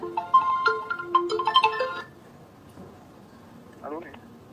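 A phone rings with an incoming call: a short run of bright, close tonal ringtone beeps that stops after about two seconds. A brief voice follows, then a faint sliding tone.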